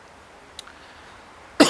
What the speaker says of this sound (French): je finis de tousser